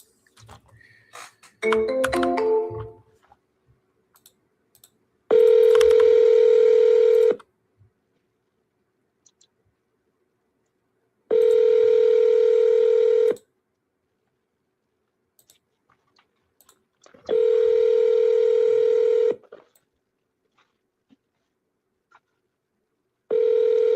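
A telephone call is placed with a few quick button presses, followed by repeated ringback tones, each a steady buzz lasting about two seconds and separated by long silent gaps.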